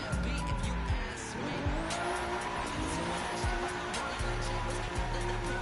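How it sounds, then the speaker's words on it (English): A car with an RB26 engine revving hard to redline at a car cruise, loud and close, with repeated sharp rising engine howls and shifts, joined by tire squeal. "The sound of that RB26 redlining is such a turn on."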